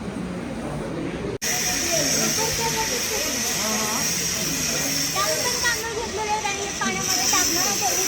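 Boiling hot spring water in Manali hisses steadily with steam, a loud continuous rush that runs the whole time while people talk over it.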